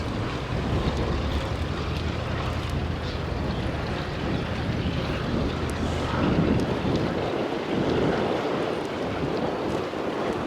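P-51 Mustang warplanes fly over Duxford during a D-Day airshow, a loud, continuous broad engine roar mixed with heavy wind buffeting on the microphone, with no speech.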